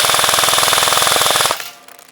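A Novritsch SSR249 airsoft support rifle fires a rapid full-auto burst of evenly spaced shots for about a second and a half, close and loud, then stops and leaves a quiet mechanical tail.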